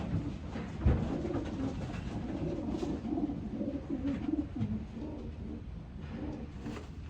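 Racing pigeons cooing in soft, repeated low calls close by, with a brief thump early on and a steady background hum beneath.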